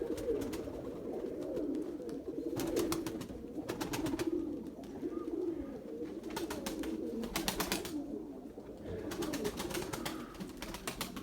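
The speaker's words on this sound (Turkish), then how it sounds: "Çatır çatır kalkıyor" A tumbler pigeon claps its wings sharply as it takes off, several bursts of rapid wing claps spaced a couple of seconds apart over a background of soft cooing from pigeons nearby.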